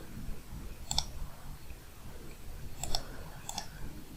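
A few sharp computer mouse clicks while working with a payroll template, spaced apart with quiet room tone between them.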